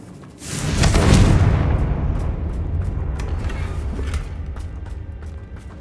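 A Confringo fire spell bursts with a heavy boom in the Hogwarts Legacy video game, a loud rumbling blast that swells near the start and then trails off into a long, noisy decay.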